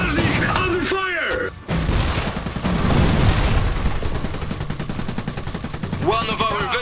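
Sustained gunfire in the mech strategy game Iron Harvest, continuous loud rattling shots and booms of a siege battle, with unit voices speaking over the fighting.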